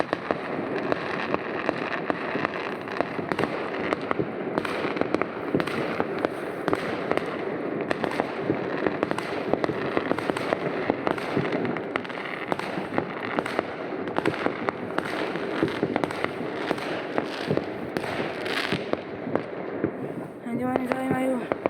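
Fireworks pop and crackle continuously, a dense barrage of bangs at middle distance, with people talking now and then over the noise.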